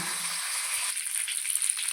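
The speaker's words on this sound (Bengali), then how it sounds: "ভালো করে ভেজে নেব মাছের মাথা" Fish heads fry in oil for a Bengali muri ghonto, giving a soft, even, high sizzle that carries on unbroken at a low level.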